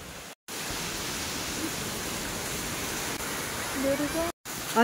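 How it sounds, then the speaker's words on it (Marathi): Heavy rain pours down with strong gusting wind in a loud, continuous roaring wash, briefly cut twice, with a voice faintly audible near the end. "कसलं पाऊस जोरात यायला लागलाय पाऊस आता."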